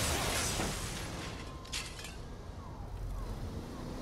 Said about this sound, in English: That just sounded like real glass shatter as well.